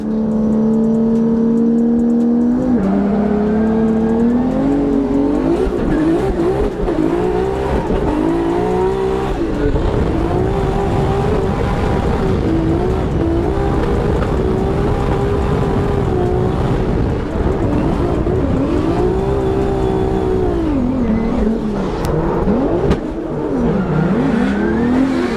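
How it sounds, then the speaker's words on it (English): BMW E36 drift car at a Formula Drift event in Seattle, its engine revving hard and continuously during short burnouts, loud and close, with pitch swinging up and down throughout and tire squeal mixed in. "So we do short little burnouts."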